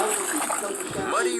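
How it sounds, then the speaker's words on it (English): Muddy rainwater splashes up from a puddle in a brief, wet spatter heard beneath continuous voices. "Muddy rainwater has splashed all over"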